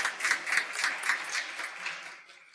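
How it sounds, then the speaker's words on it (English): An audience at a justice reform event gives a round of applause, heard as fairly faint, distant clapping that continues steadily and slowly tapers off. "I asked everybody to give her sort of a round of applause."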